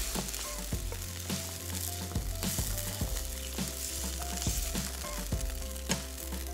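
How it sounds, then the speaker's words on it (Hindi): Meat and yogurt gravy frying in a pot, a continuous bubbling sizzle with regular sharp clinks and scrapes of a spoon stirring against the metal, heard up close. "जब तक ये भुन रहा है"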